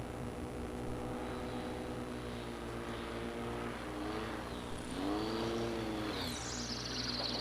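STOL propeller airplanes at the Moses Lake airshow, all-metal and tube-and-fabric designs: a steady droning propeller hum with engine tones sliding up and down as the planes maneuver, moderately distant, without talk.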